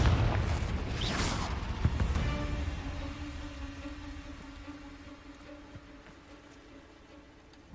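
A Confringo explosion spell cast in the video game Hogwarts Legacy: a loud, close boom bursting out in the first seconds, followed by a long fading rumble with a steady low hum beneath, then a sharp hit right at the end.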